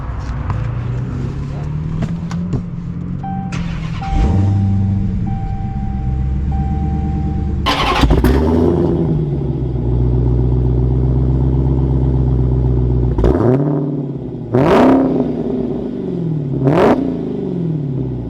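A supercharged V8 Dodge Challenger Hellcat Redeye with 668 miles starts and revs, a loud steady engine rumble with sharp throttle blips rising toward the end, close and clear with no talk over it.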